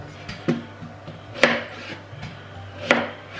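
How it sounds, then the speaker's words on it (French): Knife chopping food into quarters on a board: a few sharp, separate cuts spaced about a second apart, close and clear against a quiet kitchen background. "je vais les couper en 4"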